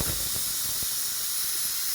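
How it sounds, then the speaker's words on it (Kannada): A pressure cooker of drumstick and field-bean sambar releases steam in a steady, close, broadband hiss that runs unbroken through the clip, with no voices over it. "ಕುಕ್ಕರಿಂದ ಲಿಡ್ಡು ಕ್ಲೋಸ್ ಮಾಡಿಬಿಟ್ಟು ಎರಡರಿಂದ ಮೂರು ವಿಜಲ್ನ ಐ ಫ್ಲೇಮಲ್ಲಿ ವಿಜಲ್ ಹಾಕ್ಸ್ಕೊಳ್ಳೋಣ"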